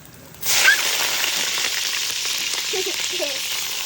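Garlic dropped into hot oil in a pan for pork laing bursts into a loud, close sizzle that holds steady for several seconds, with a faint voice briefly audible beneath it.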